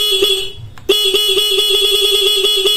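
A stock car horn fitted with an interrupter relay blares in a rapid stuttering pulse, chopped into quick regular beeps after a brief pause, loud and close.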